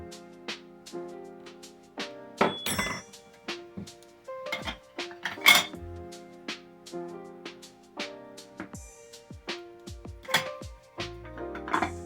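Tumbler polishing grit spooned into a rock tumbler barrel, a series of sharp scattered clinks and scrapes against a quiet background, close and fairly faint.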